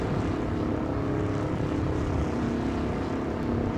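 A loud, steady propeller engine drone fills the whole stretch, rumbling continuously with no break and no voices.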